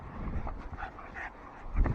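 A mud-covered dog that has been diving in puddles gives soft whimpers and short muffled barks, close by and fairly quiet, with a stronger burst near the end.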